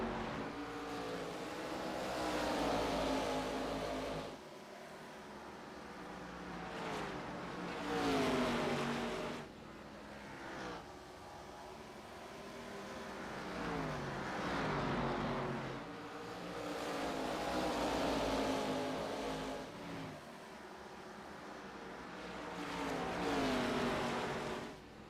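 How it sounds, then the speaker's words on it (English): ARCA stock cars race around the tight Bristol short track in the iRacing simulator, engines rising and falling in repeated revving, roaring waves as the pack circles lap after lap, loud and continuous. "These are the ARCA cars, Diggs."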